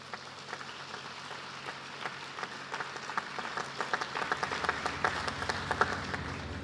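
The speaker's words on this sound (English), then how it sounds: "Give them a round of applause." An audience at a university graduation ceremony breaks into applause, a moderately distant crowd clapping that starts sparse and builds to a fuller, denser round.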